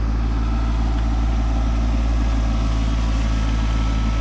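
A 2515 tractor's engine runs steadily on a hillside at an off-grid cabin excavation site, a continuous low idling rumble with a constant hum throughout, loud and close with no talk.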